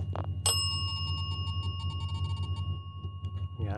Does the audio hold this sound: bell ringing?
yes